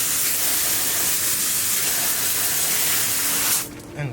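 A steady, loud hiss of water spraying continuously onto an e-bike for several seconds, then cutting off abruptly near the end.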